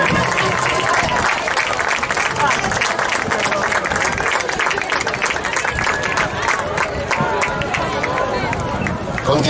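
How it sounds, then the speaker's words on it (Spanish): An audience applauds at a handball trophy ceremony on a beach, steady dense clapping and crowd noise filling the whole stretch, loud and continuous with some background chatter. "Un aplauso."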